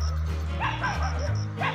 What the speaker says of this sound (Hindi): यहाँ पर कुत्तों ने अपना माहौल बनाया होता है